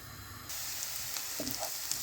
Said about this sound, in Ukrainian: На сковорідку наливаю олії трошки та викладаю сюди цибульку